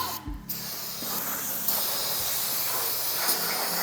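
A loud, continuous aerosol degreaser spray hisses steadily, close up on a car engine, after a brief pause near the start.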